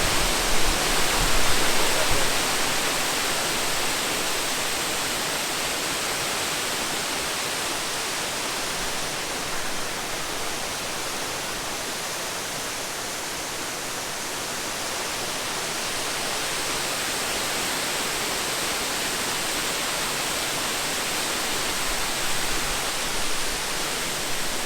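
A fairly tame waterfall pours steadily, producing an even, continuous hiss of falling water that holds at a moderate level for the whole stretch with no voices over it.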